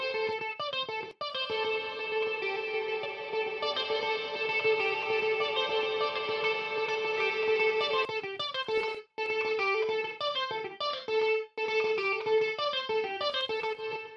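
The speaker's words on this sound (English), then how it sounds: "Either the size or the decay parameter should increase the length of the reverb tail, giving the impression of being in a larger space." A reverb plugin with its size or decay set high gives a sustained synth tone a long, smeared tail that hangs on after each note, loud and continuous with brief dropouts.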